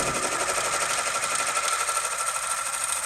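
A Berger embroidery machine stitching a logo onto cutaway backing material, running a fast, steady mechanical chatter of needle strikes at an even pace, close and constant throughout.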